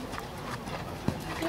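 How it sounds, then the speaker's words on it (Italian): A show-jumping horse's hooves clop on the ground as it enters the arena at a competition in Pallare, soft irregular thuds with one sharper strike, heard under a public-address announcer's voice and steady crowd-area ambience. "Secondo cavallo in campo, Special Fly"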